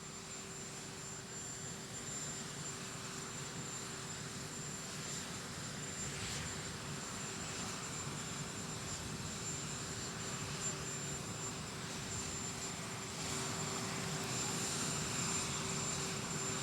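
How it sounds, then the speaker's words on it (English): Steady droning rotor and engine noise from a VH-3D Sea King helicopter, constant and fairly loud throughout, with a faint whine running over the rumble. "These Sea King aircraft have been utilized for this purpose for"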